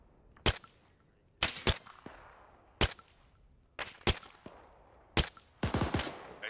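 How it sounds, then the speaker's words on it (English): Gunfire in the military shooter game ArmA 3, sharp single and double shots cracking at irregular intervals, some closer and louder, with a short burst near the end and no talking. "Anybody see where that fire's coming from?"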